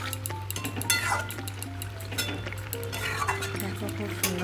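Ridge gourd curry is stirred in a pan, a continuous close scraping and gentle sizzle with light clinks of the spoon against the metal.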